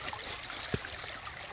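Creek water rushes steadily through a gold prospecting sluice set at a shallow pitch, a continuous broadband flowing wash close by with one small splash in the middle.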